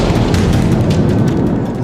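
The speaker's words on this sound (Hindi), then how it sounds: "जोरदार धमाका हुआ और पूरा का पूरा इलाका आग के गोले में बदल गया" Huge explosion in north-eastern Ukraine, a loud sustained rumbling boom with dense low roar and scattered crackling bursts throughout, continuous and overwhelming with no voices.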